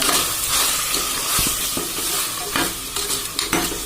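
Garam masala and salt being stirred through in a frying pan, with busy scraping and tossing over a steady sizzle, close and fairly loud, no voices.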